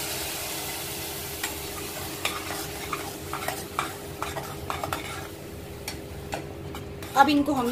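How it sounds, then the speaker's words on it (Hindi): Onion and tomato paste frying in oil for Punjabi-style dal makhani, a low steady sizzle with repeated spoon scrapes and taps on the pan, someone speaking briefly over it. "लगभग 1 मिनट तक अच्छे से भूनना है, ये जब तक टमाटर ये ऑयल को अलग नहीं करने लगते"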